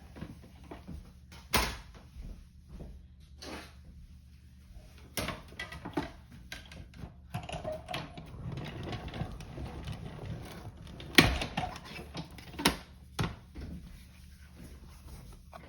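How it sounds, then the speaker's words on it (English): A manual die cutting machine feeds a painted texture embossing folder through spine first for a pink daisy card, giving quiet cranking rumbles and scattered clicks and thumps that start and stop through the clip. "my die cutting machine is just beside me, so I'm gonna go spine in first"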